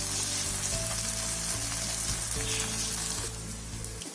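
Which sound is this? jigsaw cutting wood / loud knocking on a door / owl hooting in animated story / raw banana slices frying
raw banana slices frying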